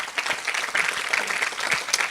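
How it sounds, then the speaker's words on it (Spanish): A congregation at an evangelical church service gives the Lord a round of applause. The dense, continuous clapping stays close and steady for the whole stretch. "Dale ese aplauso al Señor"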